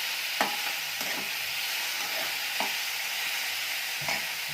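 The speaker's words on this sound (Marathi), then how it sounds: "नंतर बटाटा आपण टाकायचा।" Diced potato stirred into a frying pan of onion masala for potato dosa filling, a steady close sizzle broken by a few soft scraping strokes of the spoon, no voices.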